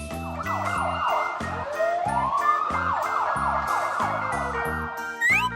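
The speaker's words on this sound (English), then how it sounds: "A as in. Ambulance." An ambulance siren wails with a steady repeating rise and fall, loud and close, over a pulsing electronic music beat with no talking.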